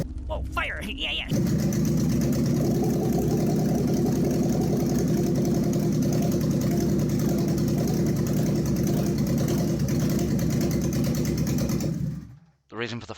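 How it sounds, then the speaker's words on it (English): A 6R4 replica car engine runs at a steady idle after a brief start-up, holding a loud, even drone for about ten seconds before cutting off abruptly near the end. "I gave it a few short revs to check that it didn't have rod knock and it seems okay"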